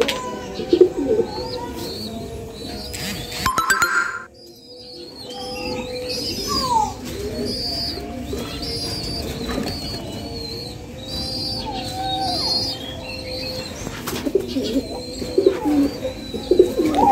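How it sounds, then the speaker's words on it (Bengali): Pigeons coo in soft, repeated rounded calls at night in a loft housing pigeons and doves, with chirps and a steady background murmur throughout. "এই যে কবুতর"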